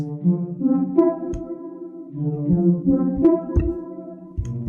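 Bright synth plucks play a simple bouncing melody over a punchy kick-driven beat, the short notes repeating in a steady loop.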